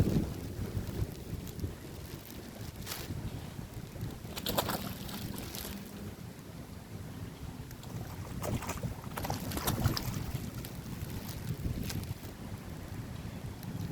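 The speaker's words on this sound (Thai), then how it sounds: "ลมมันแรงนะครับตอนนี้ก็จะมีเสียงลมด้วยนะครับ ลมแรงมากเลยนะครับ" Strong, gusty wind buffets the microphone beside the water at a temple fish-feeding spot in Bangkok, a steady low roar with louder gust bursts throughout, no talking.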